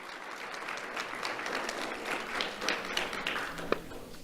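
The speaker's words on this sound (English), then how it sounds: "Let's give her another round of applause." A crowd applauding steadily at a school awards event, a dense wash of clapping that holds at an even level throughout, with no talking.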